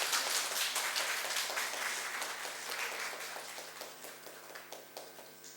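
Indoor audience applause during a flower bouquet presentation at a ceremony, a steady wash of many hands clapping that gradually thins into scattered individual claps near the end.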